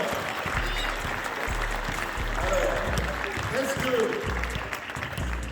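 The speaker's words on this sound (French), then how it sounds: "Mesdames, messieurs, applaudissements à ce jeune joueur." Applause for a young player at a mini-basketball session, steady clapping from a gathered audience running under someone speaking French, with the voice carrying over the clapping the whole time.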